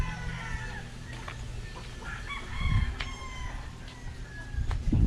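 Ready-to-lay chickens cluck in a flock, and a rooster crows midway with deeper calls swelling near the end, several birds at close to moderate distance.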